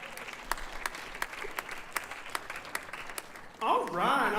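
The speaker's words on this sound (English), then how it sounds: "Give a round of applause for Tony joining me on stage." Scattered audience applause at a bottle school benefit concert, sparse individual claps ringing out fairly faintly before a voice begins speaking.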